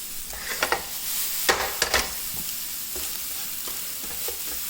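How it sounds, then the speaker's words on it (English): Aromatics for Thai drunken noodles sizzle and fry in a hot pan, with a few sharp clatters of stirring against the metal near the start. "If I find this is frying too aggressively, I'm going to turn my heat down"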